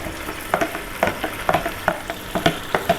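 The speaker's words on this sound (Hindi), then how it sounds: "अच्छे से सारा दही इसमें डाल दें। अब मैं मिक्स करूँगी इसे।" Yogurt stirred into a sizzling biryani masala in a pan while making Sindhi biryani: a steady frying crackle under regular scraping strokes of a spoon, about two a second, close and clear, with no talking.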